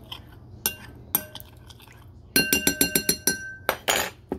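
A utensil clinks against a pan while stirring melting butter and Mrs. Dash seasoning for an Italian hamburger steak, first a few sparse taps, then a quick run of sharp, close metallic strikes and scrapes.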